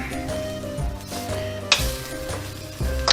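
Shrimp dropped into a hot pan sizzle steadily, with a few sharp clinks and scrapes of utensils against the pan cutting in near the start and end.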